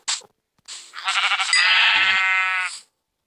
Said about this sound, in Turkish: Orada bir bak orada bir koyun var şimdi gidip öldüreyim.